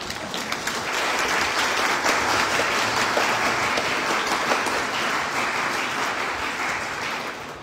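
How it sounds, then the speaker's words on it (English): A Lutheran church congregation applauds steadily for the full stretch, a dense, loud wash of many hands clapping at once that tapers only slightly toward the end. "We can applaud."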